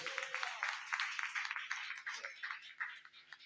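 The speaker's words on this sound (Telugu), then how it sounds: "చప్పట్లు కొట్టండి గట్టిగా." Audience applause fills a gathering, a steady wash of many hands clapping loudly for a few seconds, with a voice briefly audible underneath.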